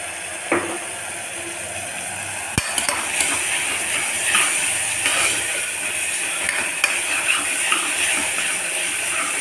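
Ginger garlic paste frying in a pan as the base for a radish curry, with a steady sizzle and crackle and a few sharp clinks of a utensil against the pan.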